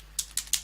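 Three or four crisp keystrokes on a computer keyboard, close and evenly spaced in a brief quiet burst with no voices.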